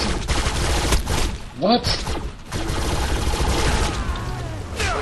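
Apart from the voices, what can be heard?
full-auto gunfire in the video game Defiance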